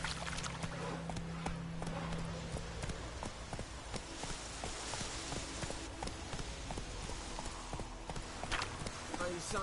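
Hooves of Roach, a horse in a video game, clip-clop in a steady galloping rhythm throughout, set against dense game ambience with a voice talking over it.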